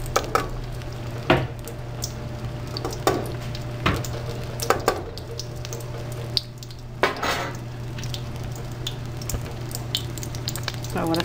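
Poblano chiles rellenos fry in a pan of oil over a lowered flame. A steady sizzle runs throughout, broken by scattered scrapes and clinks of a utensil against the pan.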